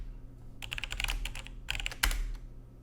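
Keys clatter on a computer keyboard as a command is typed into an Ubuntu 22.04 virtual machine on Proxmox, coming in two quick bursts of close, crisp clicks with a firmer final keystroke.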